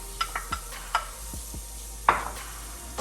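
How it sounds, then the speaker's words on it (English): Celery, onion and carrot mirepoix sauteing in a pan at a family cookout, with scattered stirring scrapes and soft clicks over a faint steady sizzle, one louder scrape near the end. "Let that saute a bit."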